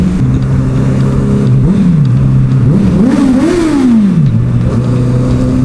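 A girlfriend's brakeless motorcycle revs loudly and close, its engine pitch climbing and falling in repeated swells before settling back to a steady idle.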